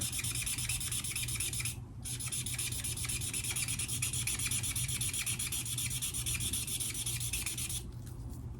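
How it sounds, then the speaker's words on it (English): Rapid continuous scrubbing of a color lifter, an eraser-like block, over stamped cardstock, a close, steady rasping rub with a brief pause near the start and a softer stretch at the end. "So I'm going to take my color lifter. And I'm just going to scrub over the top."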